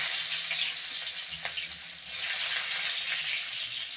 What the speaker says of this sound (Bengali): এবার সেই তেলের মধ্যে দিয়ে দিচ্ছি রসুন কুচি।